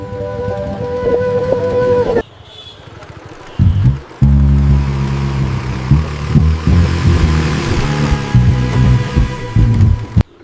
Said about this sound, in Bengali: রাস্তায় বাইক চালাচ্ছে